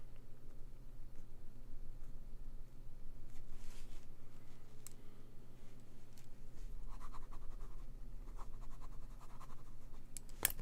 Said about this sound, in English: I write down Jasmine